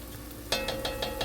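A spoon scrapes and knocks around a pot of lima beans, several quick rhythmic clinks close by after a quiet start, with no talking.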